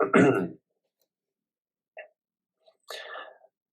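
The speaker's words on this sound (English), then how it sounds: "Sorry, I'm coughing a bit" A short burst of coughing up close, then a brief pause, a small throat sound, and another rough cough with no talking.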